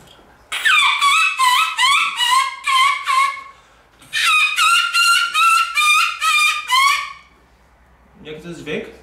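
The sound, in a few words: predator call for wolves imitating a dog being killed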